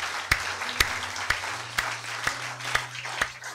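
A church congregation clapping in a slow, evenly spaced beat, about seven sharp claps in a row, fairly quiet and with no other sound over them.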